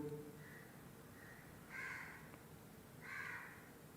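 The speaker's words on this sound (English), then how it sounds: "listen to the sound of the crow" A crow caws outdoors, faint and distant, giving two soft calls followed by two louder harsh caws spaced about a second apart over a quiet background.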